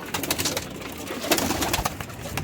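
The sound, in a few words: pigeons cooing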